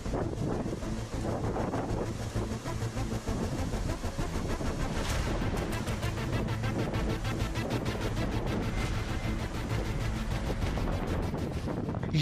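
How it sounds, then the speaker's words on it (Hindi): Strong wind from Cyclone Ditwah buffets the microphone on the coast, with rough gusty rumble and surging sea waves beneath, loud and continuous throughout with no talking. "तेज हवाएं चल रही हैं, समंदर में ऊंची लहरें उठ रही हैं।"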